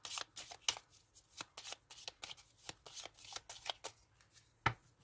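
Rune cards being shuffled and drawn, a quick run of crisp riffling flicks and slaps at close range with short pauses between bursts and one sharper snap near the end, with no voice over them.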